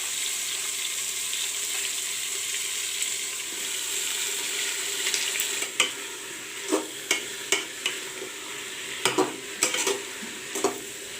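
Potato, cauliflower and cabbage stirred and fried in a pan: a steady close sizzle runs throughout, and from midway a spoon scrapes and knocks against the pan in a loose, irregular rhythm.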